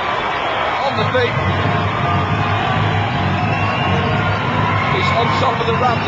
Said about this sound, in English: As the crowd starts to shout